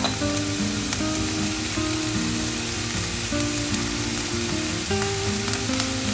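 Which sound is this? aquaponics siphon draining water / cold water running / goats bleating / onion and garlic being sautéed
onion and garlic being sautéed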